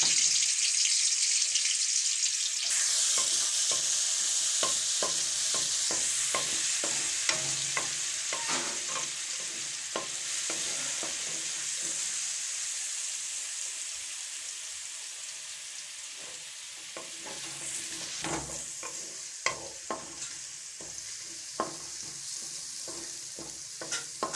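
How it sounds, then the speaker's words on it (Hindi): Steady loud sizzling and hissing of garlic ginger paste frying in hot oil in a karahi, with frequent scraping and stirring clatters of a spoon against the pan throughout. "अब हम इसमें लहसुन अदरक का पेस्ट शामिल करेंगे और इन्हें भून लेंगे।"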